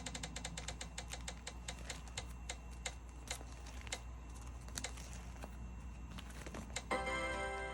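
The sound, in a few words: prize wheel spinning and ticking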